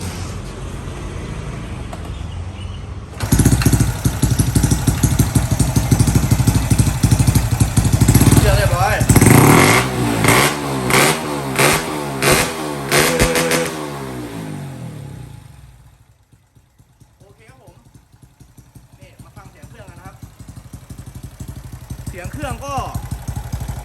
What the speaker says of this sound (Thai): สตาร์ทเครื่องได้ครับ